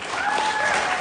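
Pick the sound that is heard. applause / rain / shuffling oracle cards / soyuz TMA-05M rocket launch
applause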